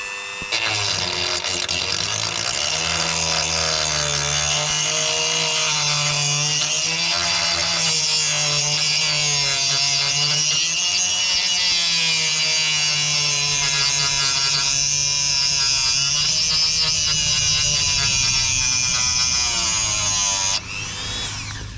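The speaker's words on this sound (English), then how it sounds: "I'm doing a very nice job of polishing the rust." A small rotary tool whines steadily while polishing rust off a Volvo V70 exhaust bracket, its pitch wavering with load for about twenty seconds before cutting off abruptly.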